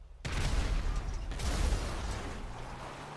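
An explosion in the video game GTA 5 bursts in suddenly after near silence, then rumbles on as loud, crackling debris and booming noise that slowly fades.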